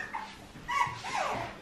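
A dog whimpers close by in two or three short, high, wavering whines over a soft background, with no talking.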